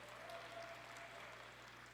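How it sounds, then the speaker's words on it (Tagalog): Thin, scattered applause from an audience at a Red Cross coronation rites event during the Pamuliwanen Festival, steady and fairly faint, with a low hum beneath. "Ang hina naman ng palakpak."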